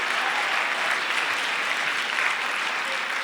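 An audience applauds at the Jamaica Poetry Festival 2022, dense and steady clapping from many hands that holds at full strength throughout.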